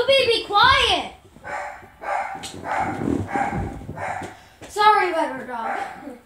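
A dog barks and yips repeatedly indoors, mixing sharp barks with whimpering cries, while a person talks over it at close range.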